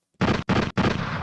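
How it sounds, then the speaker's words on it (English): A gunshot sound effect plays as three loud, close, booming blasts in rapid succession within about a second, each one sharp and full-bodied, with nothing else heard alongside them. "Gotta turn the gunshots up."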